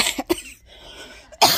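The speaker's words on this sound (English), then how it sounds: "I can't stop coughing." A person coughs from allergies, a few sharp close coughs in quick succession, then a pause before another loud cough.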